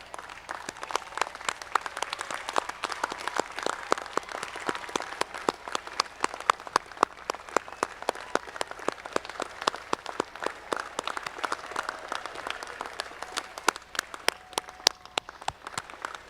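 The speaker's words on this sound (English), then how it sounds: "please stand if you can, so our graduates can express their gratitude with a round of applause" A large crowd at a university commencement applauds steadily, dense overlapping claps filling the space for a long stretch, with no voices rising above it.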